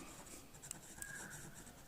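Marker or chalk strokes on a board during a finance lecture give faint, close scratching and squeaking with a couple of light taps against quiet room noise.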